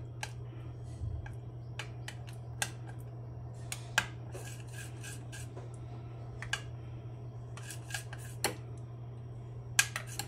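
A spoon taps and clicks against a bowl while stirring a thin slurry of besan and water for methi pithla. The sparse, sharp ticks sound quiet and close over a low steady hum, with no talking.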